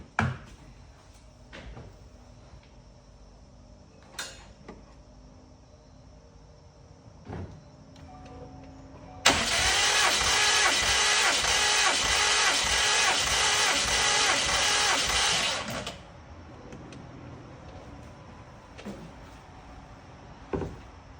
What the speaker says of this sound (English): now we're going to crank the engine and see how much PSI we're getting from that cylinder